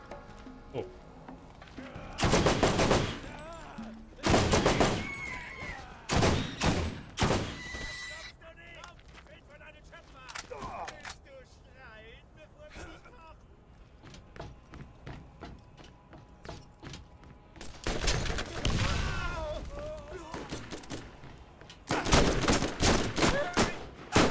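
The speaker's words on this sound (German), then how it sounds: "Mit Dauerfeuer." Automatic gunfire in the video game Borderlands, several loud sustained bursts broken by quieter gaps, with excited talking in between.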